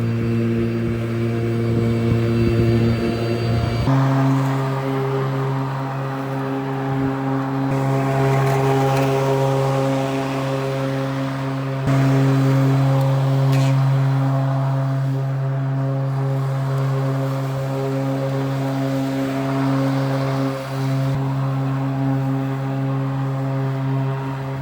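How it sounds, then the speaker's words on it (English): Cramer Optimus 82-volt battery lawn mower running while mowing, a steady, loud electric motor whine with strong humming tones that shifts up slightly after a few seconds and holds constant, with no talking. "I think I'm going to do a bit more mowing"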